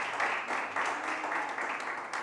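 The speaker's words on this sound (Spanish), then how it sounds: "Démosle un aplauso." A church congregation applauds, a steady wash of clapping hands that fills the room throughout, moderately loud with no individual claps standing out.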